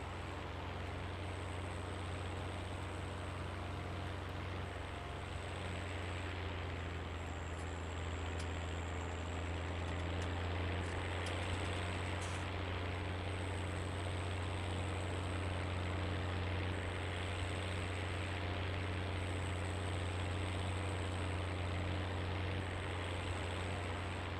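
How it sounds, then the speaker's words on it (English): A farm tractor engine runs steadily throughout at full throttle, a loud, constant drone with a deep low hum and no break, out in the Susquehanna River Valley. "this tractor is kind of loud"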